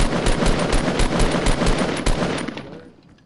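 Rapid automatic gunfire in a PS4 shooter game, a loud sustained burst of closely spaced shots that rings out and fades away at the end.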